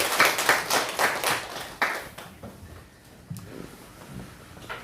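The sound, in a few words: congregation applause in church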